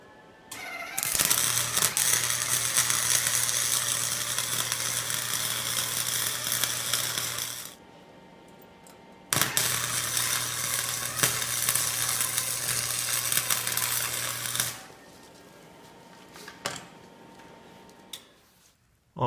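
An exhaust pipe being welded in a garage gives two long, steady crackling buzzes of roughly six seconds each, close and loud, separated by a short quiet gap, with a few small clicks afterward.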